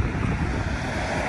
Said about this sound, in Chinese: 现在这个小天儿还是嗖嗖的风